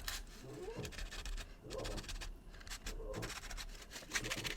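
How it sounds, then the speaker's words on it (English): A small necklace piece sanded by hand with 400-grit sandpaper to take off little lips, giving repeated short scratchy rubbing strokes at close range. "what I like to do is just kind of sand off these little lips here"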